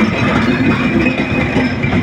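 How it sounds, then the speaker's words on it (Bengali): At Tangail station a long train slows as it arrives, its wheels clattering loudly and close with a steady rhythmic rumble and a faint squealing tone. "এইমাত্র একটি ট্রেন এই টাঙ্গাইল ট্রেন স্টেশনে এসে হাজির।"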